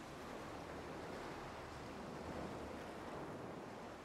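Steady wave and surf wash on a water-covered planet below a viewing platform in the game Schizm 2, a continuous soft roar with a wind-like hiss, unbroken and distant throughout.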